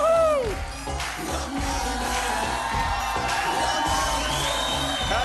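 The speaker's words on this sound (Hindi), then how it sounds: "और इससे ज्यादा जोरदार तालियां हो जाए" A studio audience at a children's Hindi TV show applauds and cheers loudly, with dense clapping and scattered high whoops filling the whole few seconds at a steady level.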